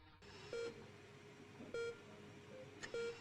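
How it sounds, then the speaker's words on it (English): A hospital heart monitor in the video game Not For Broadcast gives short, evenly spaced electronic beeps roughly every 1.2 seconds, quiet and steady over a faint hum. "The rhythmic beeping of the heart monitor brings you slowly back to consciousness."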